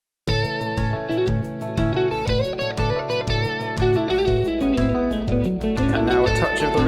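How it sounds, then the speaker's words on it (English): Full band of layered electric guitars playing a steady, dry riff with bass and drums, loud and continuous, without any echo or room ambience. "This is how our track sounds without any of the reverb dialed in."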